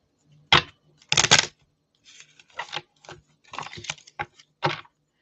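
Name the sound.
shuffling oracle cards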